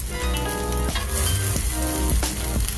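Butter sizzles in a hot pan with a constant, fairly loud frying hiss, mixed under continuous background music.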